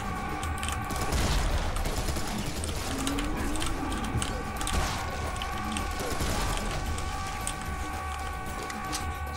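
Assault rifle gunfire in the video game Serious Sam 3, continuous rapid shots blending into a dense mechanical clatter mixed with steady game tones, loud and sustained throughout, with no talking.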